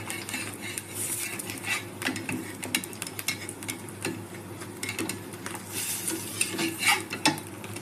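A set dosa on a hot oiled pan being turned with a spatula: irregular metallic scrapes and clinks against the pan over a soft, continuous sizzle, close by and with no talking.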